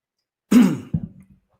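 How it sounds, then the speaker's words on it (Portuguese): A single throaty clearing of the throat, a rough rasping burst followed by a shorter second rasp, close and fairly loud, with no talking. "Desculpa a gente que o pigarro tá grande"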